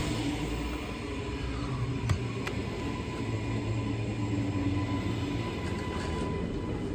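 Shorncliffe line passenger train arriving at Northgate Station, a steady loud rumble and rolling rail roar close by, with a couple of brief metallic clicks and faint squeals over the constant noise.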